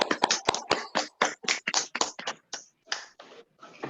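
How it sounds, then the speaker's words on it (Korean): Church congregation clapping in encouragement for the youth department's teachers at a teachers' seminar, a run of irregular hand claps close and fairly loud, thinning out toward the end. "우리 모든 선생님들은 소년부 선생님들을 위해서 큰 격려의 박수 부탁드립니다"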